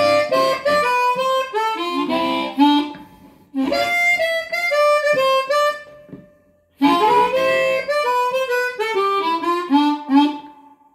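Chromatic harmonica played through a STRNAD harmonica microphone into a tube amp, heard alone as three sustained melodic phrases with clear, fairly clean tone separated by short pauses.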